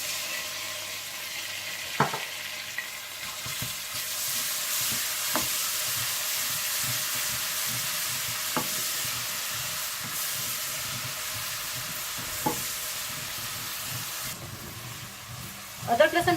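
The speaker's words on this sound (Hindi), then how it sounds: "जैसे ही प्याज हल्के गोल्डन ब्राउन हो जाए तो आप इसमें अदरक लहसुन डालकर भून लें" Onion, ginger and garlic fry in a pan for a chana dish, giving a steady close sizzle and hiss throughout with a few sharp spatter clicks and stirring scrapes, no talk.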